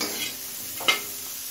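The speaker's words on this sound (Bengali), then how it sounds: "নুন, হলুদ আর কাঁচা লঙ্কা দিয়ে আরও 2-3 মিনিট ভেজে নিয়েছি।" Vegetables for a matar dal frying in a pan with salt, turmeric and green chilli, giving a steady low sizzle with one brief stirring scrape partway through; no talking.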